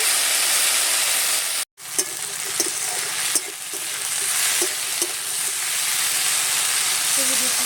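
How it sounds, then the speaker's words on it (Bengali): Okra (bhindi) sizzles and fries in a pan with oil while being stirred, a loud steady hiss with a brief gap and occasional scraping clicks of the spatula. "দেখুন নেড়ে চেড়ে ভেন্ডিটা খুব সুন্দর করে ভেজে নেব।"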